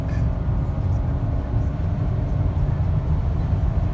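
A 2019 Audi Q7 with the 3.0T engine accelerates hard from a standstill, heard from inside the cabin as a continuous low, dense engine and road roar at steady loudness.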